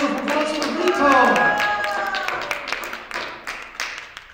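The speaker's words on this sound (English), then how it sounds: "Please give a round of applause for Vito!" An audience claps for a tuba player after a Balkan folk ensemble performance, over fading sustained instrument tones and some voices. The clapping then thins into scattered individual claps.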